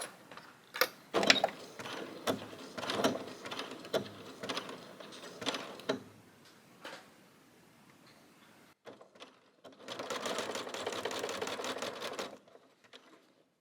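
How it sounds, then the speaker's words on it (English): A sewing machine stitches quilt sections together for a Tula Pink Sunshine quilt. Irregular short bursts of mechanical whirring and clicking come first, then after a pause a steady, faster run of stitching lasts a couple of seconds before stopping. "let me get my machine set up and we can sew this together"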